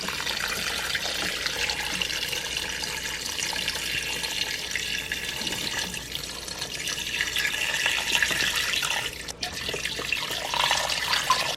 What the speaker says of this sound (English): Now I'm going to add enough water to cover everything.